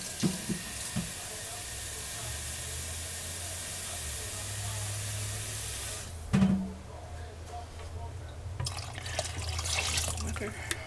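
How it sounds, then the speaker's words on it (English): Beef broth pours into a pot of beef soup, a soft steady liquid hiss and splash running for several seconds before a clunk and quieter bubbling, with faint voice in the background. "And I'm going to add beef broth."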